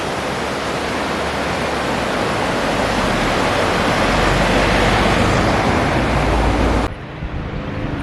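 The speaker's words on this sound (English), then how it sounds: "The River Dee." The River Dee near Balmoral, Scotland, rushes steadily as loud, broadband flowing water close by, a continuous roar that cuts off abruptly near the end, leaving a quieter background.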